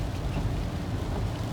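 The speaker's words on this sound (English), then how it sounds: "it's pouring down rain" Heavy rain pours down in Denali National Park, a dense, steady rushing hiss with no breaks and no voices.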